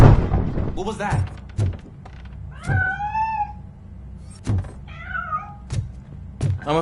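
A cat meows twice, each a drawn-out, wavering cry, between dull thumps and knocks, with a voice also present at times.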